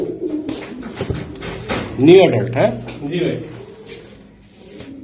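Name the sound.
gola pigeon cooing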